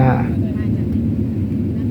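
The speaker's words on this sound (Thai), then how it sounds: "ตอนนี้ก็เครื่องบินก็ลดระดับลงมาแล้วครับ" An Airbus A380 airliner descending toward Dubai fills the cabin with a steady low roar and rumble, while someone narrates over it throughout.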